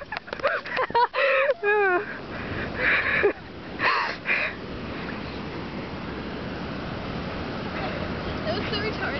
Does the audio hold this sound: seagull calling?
yes